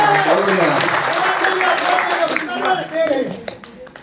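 Listeners clap dense and steady at a Hindi kavi sammelan poetry gathering in Tima Hall, Boisar. The applause runs under a speaking voice and fades out toward the end.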